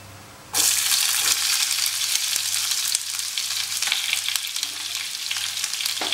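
Onions hit hot mustard oil for a Bengali fish masala with a sudden burst into a loud, dense sizzle that continues steadily up close, broken by occasional stirring clinks and a low hum underneath.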